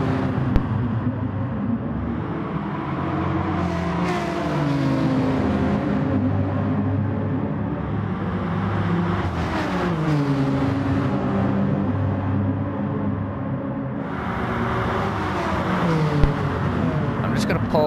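Four-wheel-drive GR4 race cars in a Gran Turismo Sport championship race launch off the starting line, a dense, continuous roar of engines revving and shifting as cars surge and pass, steady and loud throughout.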